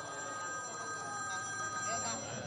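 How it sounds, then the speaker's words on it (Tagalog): A telephone rings with a steady electronic trill, fairly faint and somewhat distant, over low background noise. "ang telepono mo nagri-ring, andyan sa bag mo"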